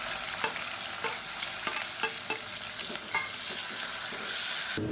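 Sliced large onions fry in hot oil with whole spices such as cloves for biryani, giving a steady, close crackling sizzle with frequent spoon scrapes and stirring taps throughout.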